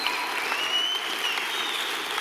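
A church congregation applauds during a sermon, a steady wash of hand claps with no break, with a faint high tone running above it throughout.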